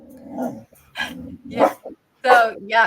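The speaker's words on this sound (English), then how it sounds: "That was my dog." A pet dog barks and yips in several short, loud bursts close by, with gaps between them, while a person talks briefly in between.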